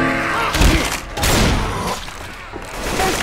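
Heavy, dense gunfire rattles in a Left 4 Dead 2 match on the Dead Center campaign, loud close bursts swelling and easing in waves with faint game noise between.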